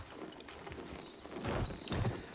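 A horse galloping in Battlefield 1, heard as faint, quick hoof thuds in an irregular run under low game noise, swelling slightly toward the end.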